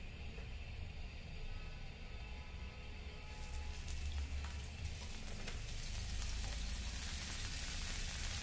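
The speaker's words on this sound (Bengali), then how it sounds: "পেঁয়াজ মরিচগুলো ভেজে নিতেছি আমি" Onions and green chilies fry in a pan at a soft, steady sizzle, getting a little fuller partway through, with faint stirring scrapes and no one talking.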